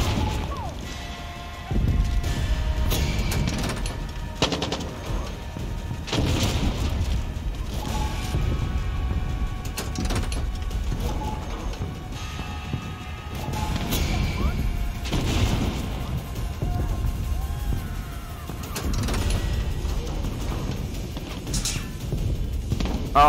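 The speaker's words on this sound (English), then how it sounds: "Load the cannon. Let's go." Cannon fire and battle noise in the video game Far Cry 6, with repeated heavy booms and crashes over a constant rumbling, creaking background.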